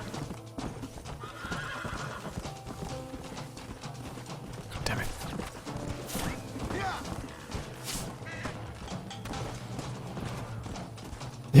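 Horse hooves clatter in the video game Red Dead Redemption, a quick clip-clop running under game sounds and a neigh, with a voice swearing briefly over it.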